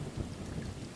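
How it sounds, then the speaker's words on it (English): Steady rain with a low rumble of thunder in the video game Stray fills the short moment, a dense even wash of storm noise with no voices. "It is rainy and stormy"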